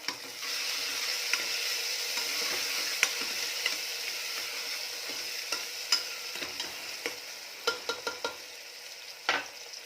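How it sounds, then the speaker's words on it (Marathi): Onion and tomato sauté in a pan for a brinjal curry, a soft steady sizzle running underneath while a spoon scrapes and clicks against the pan in irregular strokes that grow more frequent toward the end. "टोमॅटो देखील छान परतलेला आहे आणि विरघळलेला आहे"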